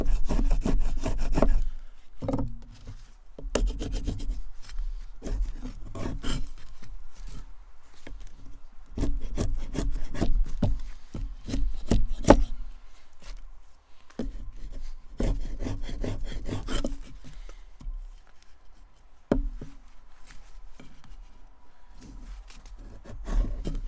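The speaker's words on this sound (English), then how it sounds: "This is my first time actually making a bow drill." A wooden bow drill is worked to make fire, with bursts of rapid, harsh back-and-forth wood-on-wood rubbing close up, separated by short pauses and small knocks as the stroke resumes.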